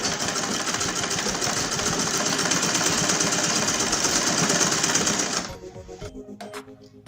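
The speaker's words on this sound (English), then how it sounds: "So now I'm going to sew across on this line." A sewing machine stitches across the lines of a padded Ankara fabric bag, a loud, steady close whir of rapid needle strokes that runs for about five seconds, then stops, leaving a few soft handling sounds.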